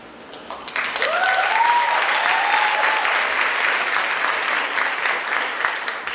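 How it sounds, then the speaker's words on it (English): An audience of girls at a UN international day event claps for themselves, the applause starting after a second and staying full and steady to the end, with a few whistles and cheers on top. "So each one of you clap for yourself."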